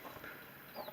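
Chickens in a backyard coop give brief, faint clucks over a steady background hiss, lasting only a moment.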